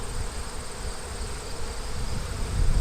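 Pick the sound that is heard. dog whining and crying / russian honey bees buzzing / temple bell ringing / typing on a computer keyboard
russian honey bees buzzing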